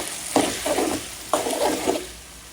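Ginger garlic paste and onion sizzle in hot oil for kachki fish, with two rounds of stirring scrapes and bursts of frying hiss at a moderate, close level, and no talking.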